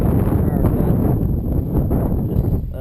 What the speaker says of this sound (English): Super windy over here.